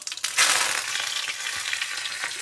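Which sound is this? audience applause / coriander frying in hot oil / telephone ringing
coriander frying in hot oil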